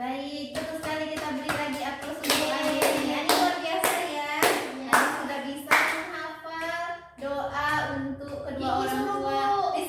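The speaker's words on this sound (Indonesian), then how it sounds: "kita beri lagi aplaus untuk Ani" A room of people claps for a young girl, a sustained burst of hand clapping that fades briefly and picks up again, with a voice talking over it.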